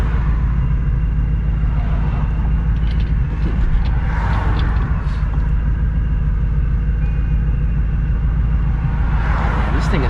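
A supercharged New Edge Mustang GT fitted with BBK long tube headers, a loud steady engine drone that stays close and constant throughout, with a voice faintly present beneath it.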